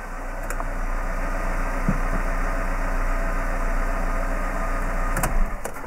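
Citroën C2 with a TU petrol engine idles steadily after starting, a constant low hum with a faint tonal whine throughout and a couple of brief clicks, no voices.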